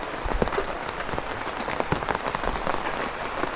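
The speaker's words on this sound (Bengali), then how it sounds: "তার মধ্যে বৃষ্টি হইতেছে" Steady rain falls on surfaces close by, a dense patter of drops with occasional sharper splashes throughout.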